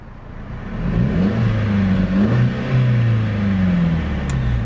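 A 2017 Mercedes-Benz SLC200 AMG Line engine revs toward its 4,000 RPM limiter, with a steady, close exhaust drone that rises and dips in pitch over several blips.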